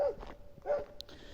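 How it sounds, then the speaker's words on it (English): Dogs barking at a distance, two short faint bark bursts about half a second apart, heard alone without talk. "the dog choir has started"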